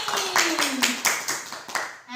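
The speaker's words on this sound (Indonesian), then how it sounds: "Kita beri tepuk tangan lagi untuk Ibu Yeni." An audience of mothers at a parenting workshop claps for Ibu Yeni. Several quick rhythmic claps sound close in a room, with a voice over the start, and the clapping ends after about two seconds.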